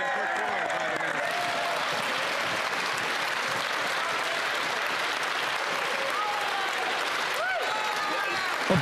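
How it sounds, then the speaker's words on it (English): Sustained applause and clapping fill a parliamentary chamber during Question Period as members rise, steady and dense throughout, with faint voices and a few whistles under the clapping near the end. "Some conservatives got up to clap with Pierre."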